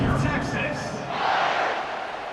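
A stadium crowd in EA Sports College Football 26 roars in a broad, steady swell, loud and continuous, with a voice over the top early on.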